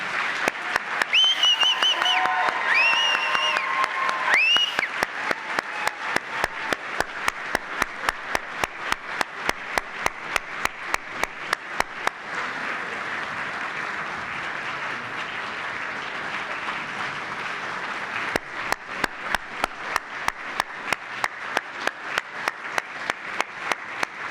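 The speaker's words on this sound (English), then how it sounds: "please join me in a warm round of applause as I present to you the class of 2027" Audience at a university law school first-year welcoming ceremony gives sustained applause that settles into rhythmic unison clapping, steady sharp beats repeating for a long stretch, with a few brief tones near the start.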